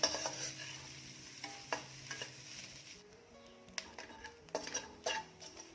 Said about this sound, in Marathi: छान खमंग आणि खुसखुशीत असं खोबरं भाजून घेऊया